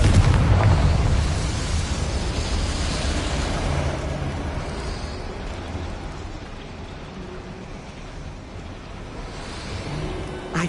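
A Confringo blasting spell explodes in the Hogwarts Legacy video game: a loud booming burst at the start that fades into a long, low rumbling tail, with no voices.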